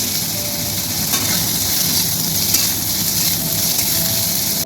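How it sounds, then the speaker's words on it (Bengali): Bitter gourd fries in mustard oil left over from frying bori, giving a continuous close hiss and sizzle with light stirring, without talk. "আমি ওই তেলে উচ্ছেটা ভেজে নিচ্ছি।"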